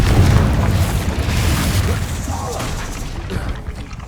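A Confringo blasting spell explodes in the Hogwarts video game, a loud, deep booming blast that rumbles and slowly fades over a few seconds, with game noise and a voice behind it.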